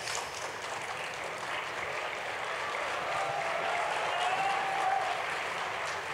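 Steady applause from a literary festival audience, heard at a moderate distance and fairly soft, a continuous wash of clapping with no speech.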